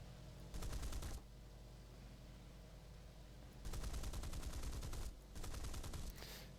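Bursts of 20mm aircraft cannon fire from a P-47D in an arcade-style flight combat game, three rapid rattling volleys of roughly a second each over a steady engine drone, close and loud.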